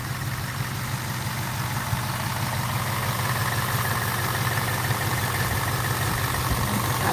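Steady low rumble of a 2018 Ford Mustang GT 5.0 V8 engine idling, an even throbbing pulse with no voices, close by and constant.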